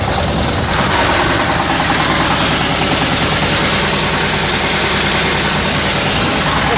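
A small belt-driven mini tractor engine pulling a Wirax plow runs steadily and loudly nearby, a continuous rattling drone with vibration and no pauses.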